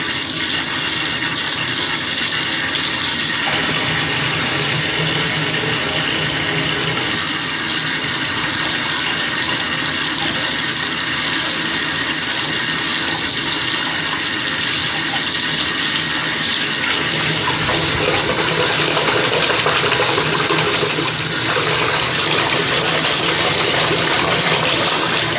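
Water runs steadily from a bathtub tap while a bath bomb and bubble bar are used, a continuous broadband gush that stays loud and unbroken throughout with no talking.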